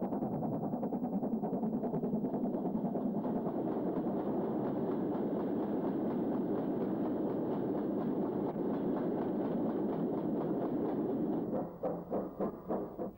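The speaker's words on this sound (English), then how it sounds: "Another 8F. This one, number 48714, was shedded around the Liverpool area for most of its working life." An LMS 8F steam locomotive runs along the rails with a steady rhythmic clatter of wheels over the track, fairly close and continuous, easing into slower, spaced beats near the end.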